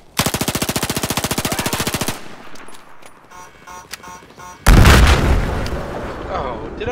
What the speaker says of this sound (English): did I just die to an exploding jeep?